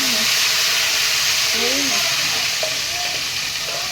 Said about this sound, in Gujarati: આપણે જોઈ કેમ વઘાર કરે